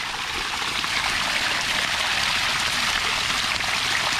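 Water gushes from a solar-powered borehole pump, a 1,200-watt Pentax pump on four panels feeding a 2-inch pipe, as a loud, steady, close hiss of splashing flow with no letup.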